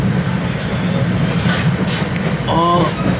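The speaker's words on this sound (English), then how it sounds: "Alrighty, we're pulling into Long Branch Yard." An NJ Transit train on the North Jersey Coast Line pulling into Long Branch yard, a loud steady interior rumble of rolling wheels with faint clicks and a brief squealing tone near the end.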